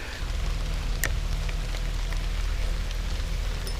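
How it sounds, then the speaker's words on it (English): Rain falls steadily on a creek during fishing, making a continuous dense patter close by with a few louder individual drops, no voices over it. "start fishing and the rain gets harder"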